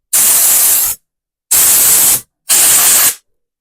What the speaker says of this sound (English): I'm going to go ahead and just clean this off with a little bit of compressed air just to verify.